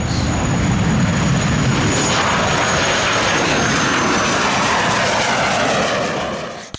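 Rolls-Royce Avon jet engines of a Canberra aircraft roar loudly and steadily with a broad rushing noise and a faint high whine, holding constant before cutting off abruptly at the end.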